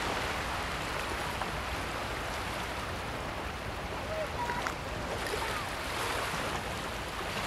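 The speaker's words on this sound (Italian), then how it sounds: "Il mare muove il tronco e lo trasporta verso riva." Sea waves wash steadily against a rocky reef shore, a continuous close surf wash with a faint swirl of water moving a floating log toward the beach, no voices.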